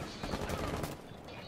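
Gunfire in Rainbow Six, a quick burst of several close, sharp shots across a second and a half, followed by a quieter tail.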